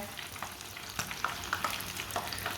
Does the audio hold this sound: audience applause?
no